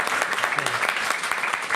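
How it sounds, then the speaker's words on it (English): A live podcast audience gives a round of applause, a dense, steady wash of many hands clapping at close range for the whole of the short stretch. "Can everybody please give Jeremy a round of applause?"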